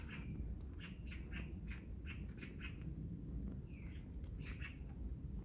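Birds singing in an arboretum: repeated chirps and squawking calls from several birds over a steady, faint outdoor hum, with no one talking.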